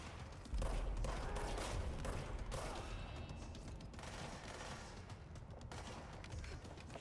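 Service weapon gunfire in the video game Control, rapid bursts of shots mixed with mechanical clatter and booms, fairly dense and continuous at a moderate level.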